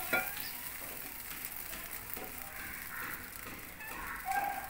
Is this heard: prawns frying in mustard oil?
yes